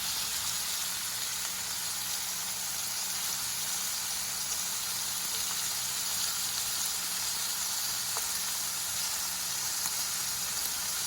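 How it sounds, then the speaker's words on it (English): Shrimp sizzle in a hot pan in one even layer, a steady bright frying hiss that continues without pause and without talk. "So I'm adding 1 shrimp at a time. It sizzles perfect."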